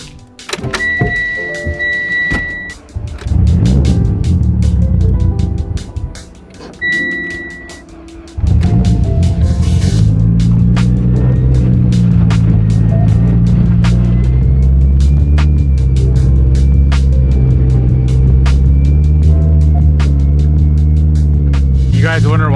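Inside a car, electronic beeps and a short motor whine give way to a loud, steady engine drone as the car drives along the road, continuous and close.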